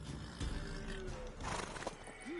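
A mare whinnies in The Witcher 3, a short rising-and-falling neigh near the end following muffled hoof and ambient game sounds.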